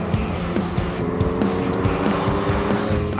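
A McLaren sports car is driven fast on a track, its engine droning steadily with rising and falling revs and shifts, heard from inside at close range.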